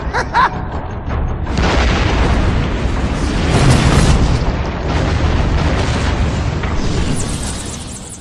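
A large explosion in the Batman Arkham video game booms loudly, then a sustained roaring rumble of debris and fire rolls on for several seconds, swelling and fading without speech.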